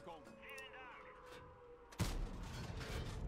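A loud, booming Leopard 1 tank cannon shot in World of Tanks erupts midway, cutting through quieter electronic tones and leaving a sustained rumbling aftermath.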